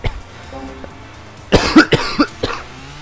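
A person coughs several times in a short, throaty burst, close and fairly loud, following a brief quiet stretch.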